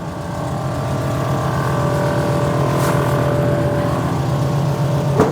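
Engine of a very small car idles steadily and continuously with a low, even rumble, close and fairly loud, with no voices over it.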